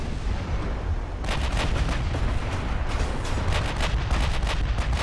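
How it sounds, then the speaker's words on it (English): Battleship main guns fire in the naval combat game Ultimate Admiral: Dreadnoughts, a dense rumbling barrage with a rapid string of heavy booms that grows louder partway through and continues without any talking. "He's actually firing his mains at me now"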